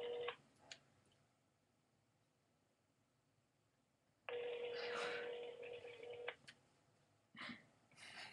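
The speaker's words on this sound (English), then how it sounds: "We're prank phone calling Dave" Touch-tone telephone keypad dialing for a prank call, with a short burst of key tones at the start, a quiet pause, then a longer stretch of dial tones and beeps, followed by a few more brief tones.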